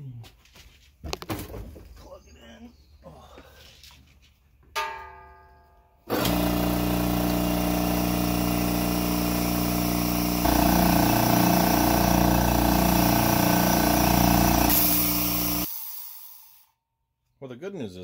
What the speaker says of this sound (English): we will power it up and see if we have any leaks